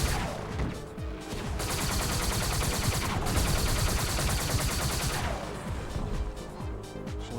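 Vehicle-mounted weapons firing in SpyHunter 2, a sustained rapid mechanical burst of gunfire for several seconds amid crashes and game effects, loud and continuous before tailing off near the end.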